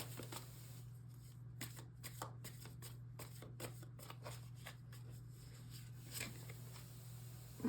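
Tarot shadow cards are shuffled in a steady, close-up patter of rapid riffles and flicks over a constant low electrical hum.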